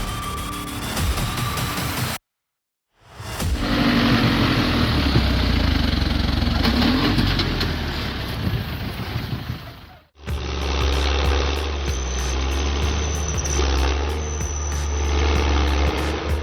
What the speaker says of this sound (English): Kicking off today's muddy, messy journey is the John Deere 1100, forging its way through a harsh trail